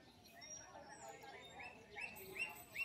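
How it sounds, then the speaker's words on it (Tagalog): Many birds chirp high in an ancient balete tree in Negros Oriental, faint and distant, with sharper tweets growing more frequent toward the end and soft talk beneath. "Puro ibon lang ang maririnig ninyo"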